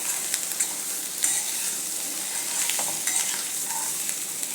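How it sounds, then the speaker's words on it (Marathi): Jowar breakfast being stir-fried in a pan with a spice coating, a steady close crackle and sizzle with light scraping stirs throughout, no voices. "फक्त त्याला मसाल्याचे कोटिंग येईपर्यंत परतायचं आहे।"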